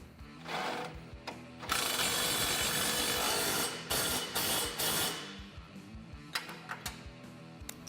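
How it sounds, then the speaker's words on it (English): A ratchet tightens the lower radius arm hardware on a Polaris RZR Pro XP during a rear bumper install, making close, rapid mechanical clicking in bursts of varying length with short pauses between. "We'll go ahead and fully tighten our lower radius arm hardware."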